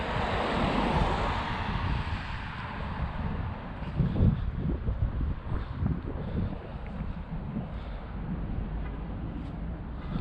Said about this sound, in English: the wind is hitting me this way, so I'm going against it right now